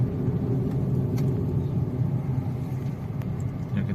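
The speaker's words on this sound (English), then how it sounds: "See, there's a lot of traffic" Road traffic on the Bandra-Worli Sea Link in Mumbai, heard as a steady low rumble of vehicles rolling past from inside a moving car, continuous and unbroken with no speech.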